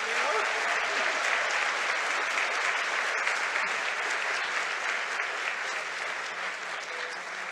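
A symposium audience claps in sustained, dense applause, steady and full throughout, tapering only slightly toward the end.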